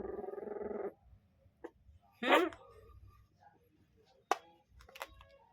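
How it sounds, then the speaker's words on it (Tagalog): A small puppy gives a few separate short yaps, sharp and close, with gaps between them, while a person talks at the start of the clip. "Kakahol-kahol na. Maliit na tuta."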